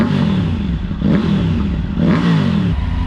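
A motorcycle fitted with a new Arrow exhaust revs twice, each blip rising and falling in pitch over a rough, loud running rumble heard close by without talk.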